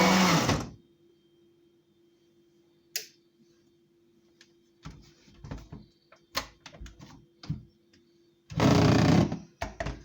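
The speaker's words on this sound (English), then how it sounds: "blender is very powerful, so I don't have to blend it for too long" A powerful blender whirs in two short loud bursts at the start and end, blending beetroot, carrot, ginger and lemon into juice, with clicks and knocks in between.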